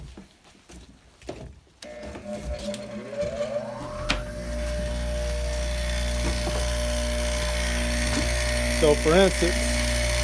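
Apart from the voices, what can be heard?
grinder smoothing the edge of a leather belt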